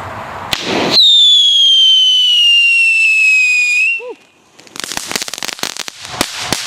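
An old Weco Shocker firework: a sharp bang, then a loud piercing whistle that slowly falls in pitch for about three seconds before cutting off, followed by a burst of rapid crackling pops close by.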